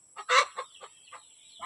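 Chickens at feeding time give a handful of brief, close clucks, one louder squawk first and then softer scattered notes over a faint steady background tone.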